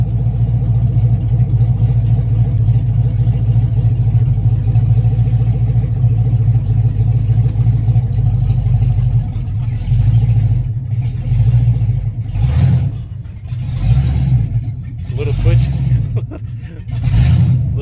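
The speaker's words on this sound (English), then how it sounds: "Twitchy with that 80mm throttle body on it. But it's running." Car engine fitted with an 80mm throttle body, a loud close steady idle rumble that surges in a few uneven revs toward the end, with someone talking over it.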